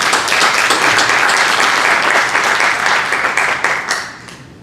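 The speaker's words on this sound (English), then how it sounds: "Let's give them one more round of applause." A crowd applauding loudly and steadily at a high school graduation, dense clapping that fades out toward the end.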